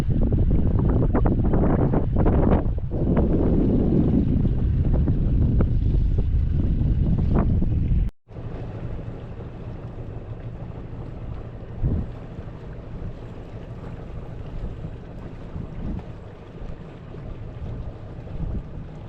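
A sailboat under way on Lake Superior, leaving an island anchorage in the early morning, with gusty wind buffeting the microphone over rushing water for the first eight seconds, then a quieter, steadier wash of hull and wave noise.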